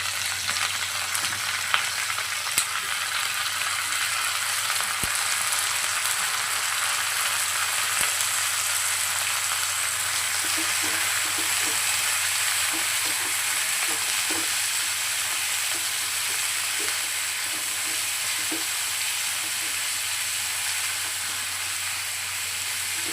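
Mutton sizzles and fries steadily in a hot pan for a Bihari-style mutton curry, a continuous even hiss with faint stirring scrapes now and then and no voices.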